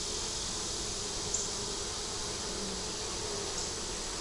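Honeybees buzz around their hive during an inspection at a colony whose queen is not laying properly, making a dense, continuous drone that stays steady with no talking.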